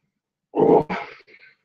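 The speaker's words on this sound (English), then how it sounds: "that was a burp, but that came out funny." A single close, loud burp from a person drinking soda, a rough low croak of just over half a second, then a brief pause and a shorter, higher, broken tail that fades out.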